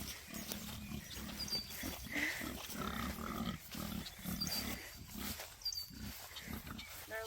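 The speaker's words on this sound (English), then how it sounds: "I hear the piggies. So wow. They're loud." Pigs grunting and squealing at a farm stay, a busy, continuous jumble of snorts and squeals heard at moderate distance under outdoor background noise.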